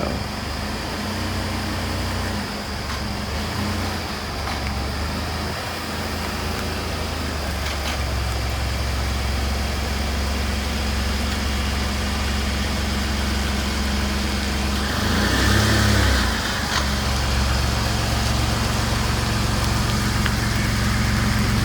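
Truck towing a '57 car on the road, a continuous, loud, low engine drone with steady road rumble throughout, with a brief rise in intensity partway through.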